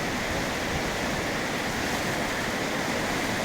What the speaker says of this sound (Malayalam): ഇതൊക്കെ പുഴ എത്ര ശക്തിയിലാണ് ഒഴുകാൻ നോക്കിയാൽ